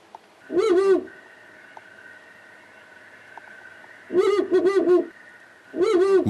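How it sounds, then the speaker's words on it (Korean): Recorded Ural owl hoots are played back as a lure in the snowy Odaesan mountains, three loud bursts of deep, wavering hoots spaced seconds apart, with a steady faint hum running underneath. "다른 긴 점박이 올빼미의 울음소리를 들려줍니다."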